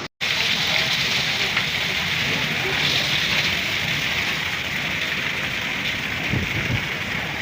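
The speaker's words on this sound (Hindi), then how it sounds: "तूफानी बारिश फिर से आ गई।" Heavy stormy rain pours down steadily over a village, a dense unbroken hiss of drops hitting surfaces, loud and close, with no voices over it.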